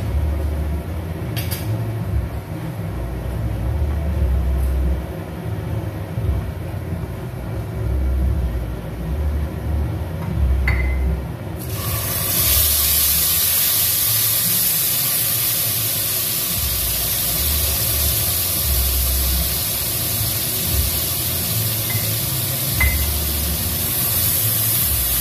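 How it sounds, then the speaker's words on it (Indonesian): Mashed eggplant being stir-fried in a pan: a sudden loud, steady sizzling hiss bursts out midway and continues evenly over a low background rumble. "Untuk sayur terongnya ini sudah halus ya bun, mau saya tumis dulu"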